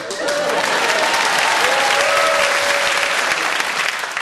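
A studio audience at a radio panel show breaks into sustained, loud applause, a dense even wash of clapping that holds steady for several seconds before tapering slightly at the end.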